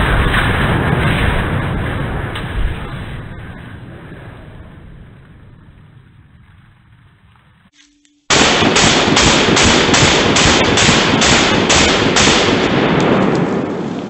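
AK47 rifle fired at a propane bottle near a swamp: a long, loud burst of rapid automatic shots ending in a sharp cutoff, then a second sustained stretch of rapid gunfire that continues to the end.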